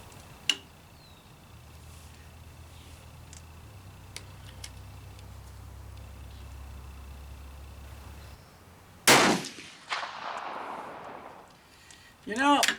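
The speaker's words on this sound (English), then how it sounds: "I'm going to warm this thing up by shooting at the two red dots" Steyr match rifle fired on a shooting range, a sharp crack near the start, then a loud shot with long decaying echo around nine seconds, another burst at the end, quiet background between.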